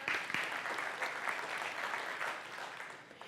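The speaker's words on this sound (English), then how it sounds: "Yeah, you can clap for that." An audience claps steadily for a few seconds, a dense patter of many hands at moderate distance that tapers off near the end.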